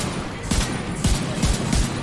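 Turret and gunfire shots in The Division 2: several sharp, punchy shots about half a second apart over a dense, noisy battle background, loud and close.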